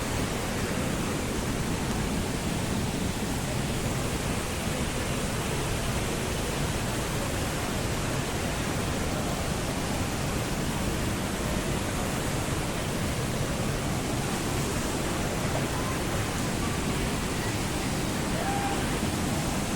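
A small family-friendly waterfall in Vadakkanchery, Thrissur pours in a constant dense hiss and rumble, steady and close throughout with no voices.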